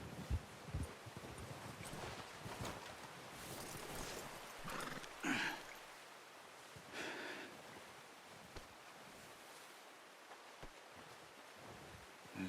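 A horse in Red Dead Redemption 2 clip-clops along at a steady walking pace, its hooves fairly close and faint against quiet wind in the outdoor game world.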